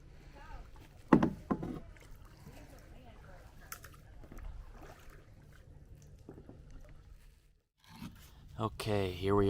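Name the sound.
kayak paddling through mangrove trail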